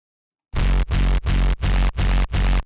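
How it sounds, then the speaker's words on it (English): Six heavy hardcore kick drums hit in a steady rhythm after a brief silence, each a loud, saturated, compressed thump whose distorted, crunchy tail rings out fully until the next hit. "the basic concept is to saturate, compress, and it will create this really distorted kind of tail sound"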